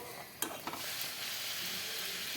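Moong dal puri deep-frying in hot oil, a continuous dense sizzle with a few sharp pops early on, close and steady with no talk.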